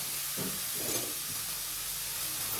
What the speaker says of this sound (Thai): ผัดให้ส่วนผสมทุกอย่างเข้ากันให้หมดเลยครับ